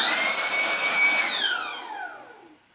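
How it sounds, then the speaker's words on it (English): Air blows dust out of an open PS4 console case: a loud, close, whining rush whose pitch slides downward as it winds down and fades over about three seconds. "Let's just brush that out. Just blow that out now."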